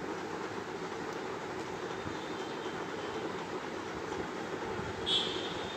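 A children's amusement park train ride at Shishu Mela in Shyamoli, Dhaka, running beneath an artificial rock formation: a steady low rumble with faint rhythmic rail clatter and a brief brighter squeal near the end.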